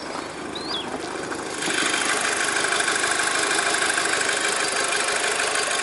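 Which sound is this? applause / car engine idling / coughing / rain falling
car engine idling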